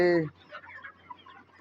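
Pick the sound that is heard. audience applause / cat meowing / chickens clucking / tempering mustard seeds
chickens clucking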